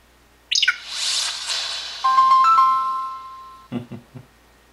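HTC Amaze 4G smartphone running Android 2.3 Gingerbread with Sense UI powering on: a bright chiming startup melody with a few sustained electronic tones, loud and close, followed by soft handling noises.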